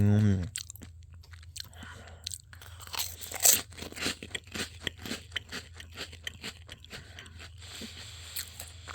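Crunchy chocolate-coated sweet-and-salty shrimp chips are bitten and chewed close to the mic, giving a steady run of crisp crunches and crackles over low background hum, with no talking.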